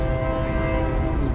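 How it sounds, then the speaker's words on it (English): A train passes loudly and close, a continuous heavy rumble with horn-like tones that keeps going without a break. "Hopefully you guys can hear me over this train."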